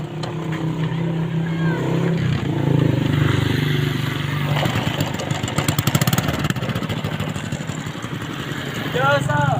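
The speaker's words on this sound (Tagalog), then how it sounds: "umandar na yung motor natin guys" A motorcycle engine starts up after being cranked and then idles with a steady, close putter, while people talk over it.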